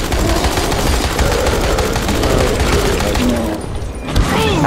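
Rapid automatic gunfire from the video game Dying Light, loud and continuous across the whole stretch, with a short dip and a sharp burst near the end and faint game noise beneath.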